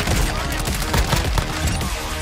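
Gunfire in Warzone 2 with an FJX Imperium sniper loadout: dense, rapid bursts of shots and impacts layered close together, loud and busy throughout, with a voice faintly mixed in.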